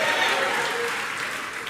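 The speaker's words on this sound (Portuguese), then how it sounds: "Pode dar uma salva de palmas" Congregation clapping in a church, a dense, even wash of applause that holds steady and then fades slightly, with a faint voice underneath.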